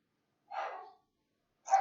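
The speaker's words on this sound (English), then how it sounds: "You're going to hear my dogs bark because somebody just came in the door." Dogs bark at someone coming in the door, giving two short, muffled barks about a second apart with silence between them, fairly close and alone.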